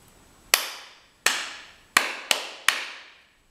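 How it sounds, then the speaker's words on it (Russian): Hands clap out a rhythmic pattern in a music-school rhythm test, five crisp, loud claps with uneven spacing, the last three coming quicker together, each ringing briefly in a quiet room. "Сейчас я предложу несколько вариантов ритмических рисунков, а вы попробуйте похлопать их вместе со мной"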